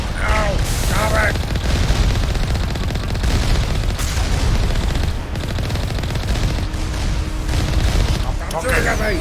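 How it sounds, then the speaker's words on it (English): Enemy gunfire in the Mass Effect video game: dense, continuous bursts of shots and booms fill the whole stretch, loud and close, with a voice speaking over parts of it. "Stop shooting at me."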